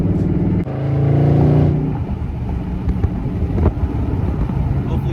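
Loud, deep exhaust rumble from a 2021 Dodge Charger Widebody with its mid muffler deleted, swelling to a strong revving drone early on, then settling into a rough idle burble with wind buffeting the microphone.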